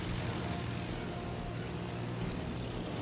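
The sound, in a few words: German torpedo planes flying in World of Warships Legends video game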